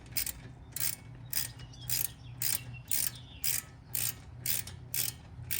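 A ratchet tightens bolts during a front brake pad change on a 2014 Toyota Highlander, giving about a dozen evenly spaced, close, crisp clicking bursts in a steady back-and-forth rhythm.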